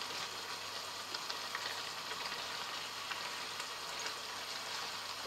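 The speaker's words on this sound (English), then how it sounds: "Okay, so stir the mushrooms through." Mushrooms being stirred into a bolognese risotto in a pan, a soft, continuous sizzle with faint spoon scrapes and light bubbling, fairly quiet and even.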